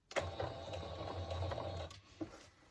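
A sewing machine runs steadily, stitching a tote bag along a line of top stitching, with a quick rhythmic mechanical whir that slows and stops near the end, close and fairly quiet.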